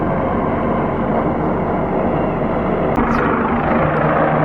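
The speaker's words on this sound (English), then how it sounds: "That helicopter has been hovering out here for over an hour." Helicopter hovering overhead outdoors, a dense continuous rotor roar and thrum that stays loud and steady throughout, with a brief click near the end.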